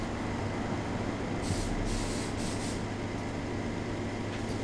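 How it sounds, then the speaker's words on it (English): An aerosol spray paint can gives a short test spray, a hissing burst of about a second followed by a couple of fainter brief puffs over a steady background hum. "Shake can and test spray."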